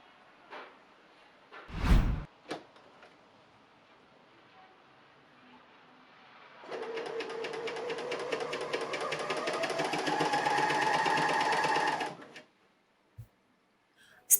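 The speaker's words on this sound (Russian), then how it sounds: "приколю пояс к шортам и притачаю на оверлоке" An overlock machine sews a waistband onto knit shorts, running in one steady, rapid stitching burst of about five seconds after a few clicks and handling knocks, then stopping.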